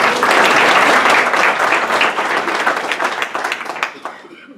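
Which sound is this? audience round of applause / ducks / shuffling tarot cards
audience round of applause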